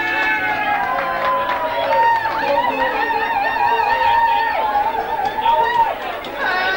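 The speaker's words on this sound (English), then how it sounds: "a really good cheer for this" A talent show audience at a harp event in Derragarra, 1994, makes a loud, steady crowd noise of overlapping voices and calls that carries through the whole stretch with no break.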